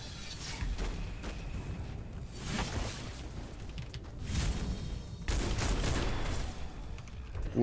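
Enemies burst apart in loud, rumbling explosions in Witchfire amid rapid firing from a Zweihander fire-breath build, with several heavy blasts spread across a dense, continuous barrage.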